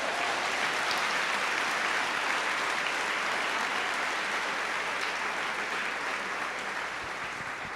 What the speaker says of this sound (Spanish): ¿Alguien le puede dar un aplauso a ese Dios?